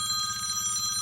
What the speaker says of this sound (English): Now I got phone calls coming through as I'm trying to do an interview.